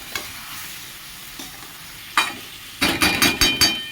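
Spiced vegetables with potato and eggplant fry in a pan with added water, a low sizzle under scattered scrapes, then a quick run of sharp spatula strokes clinking against the pan.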